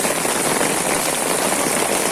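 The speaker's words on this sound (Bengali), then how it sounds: "প্রচুর বৃষ্টি হতেছে" Heavy rain pours down in a dense, steady hiss, loud and constant throughout.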